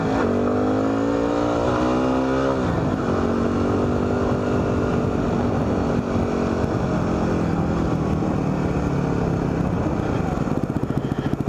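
A motorcycle on a country road to wine country revs up, drops pitch as it shifts gear, then pulls steadily through the next gear with a loud, close engine drone and wind rush.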